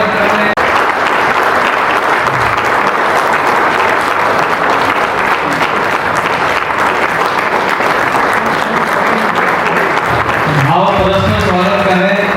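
Loud, sustained applause from a large audience welcoming guests at a 108-kund Gayatri yagya in Kusmunda, Korba, dense clapping throughout, with a voice briefly rising near the end.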